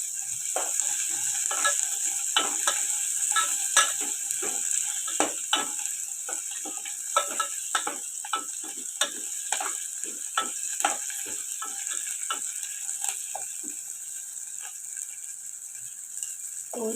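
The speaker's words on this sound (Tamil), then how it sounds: "வெங்காயம், பச்சை மிளகா போட்டுக்கோங்க. இதை வதக்கிக்கோங்க." Steady frying sizzle as onions and green chilies sauté, with frequent clicks and scrapes of a spatula stirring in a pan, continuous and close with no talking.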